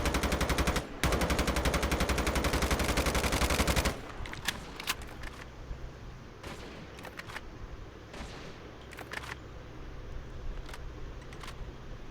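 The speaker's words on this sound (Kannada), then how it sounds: "ಯಾರು ಅವ್ರೆ ಅಂತ ಹೊಡಿತಾ ಇದೆಯೋ?" Rapid automatic gunfire from the mobile video game Call of Duty Mobile bursts in a long sustained volley, then gives way to scattered single shots and quieter game ambience.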